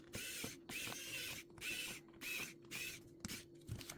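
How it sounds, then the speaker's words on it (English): Small screws are driven back into a Samsung Galaxy Tab A 10.1 tablet during a charging port repair, giving quiet, close bursts of rapid ratcheting clicks from a screwdriver, repeated in short runs with pauses between. "So I'll put all the screws in and then I'll see you on the other side."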